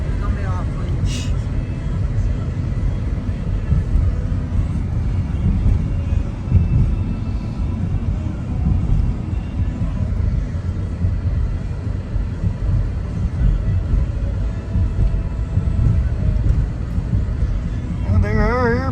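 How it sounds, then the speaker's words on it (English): Steady, broad roar of airplanes near an airport, heard from a backyard farm, a continuous rumbling wash that stays loud and unbroken throughout with no distinct passes. "There are airplanes out there."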